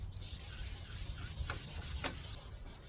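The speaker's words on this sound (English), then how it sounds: "so now we're going to start with our 600 grit." Wet sanding of a hazy plastic car headlight with 600 grit sandpaper, a steady soft rubbing and rasping that stays fairly quiet and continuous, with a few brief louder scrapes.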